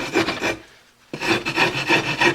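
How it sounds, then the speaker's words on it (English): A half-round rasp carves a wooden decoy body in steady, close, loud strokes, with a brief pause before the rhythmic rasping resumes. "I'm carving right down to that reference line I made for the head"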